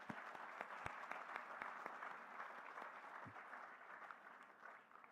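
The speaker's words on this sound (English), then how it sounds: "let's give them one last round of applause to all these amazing singers and dancers" Audience applause for singers and dancers at a cultural anniversary celebration, a soft, distant round of many hands clapping with a few sharper nearby claps standing out, continuing evenly throughout.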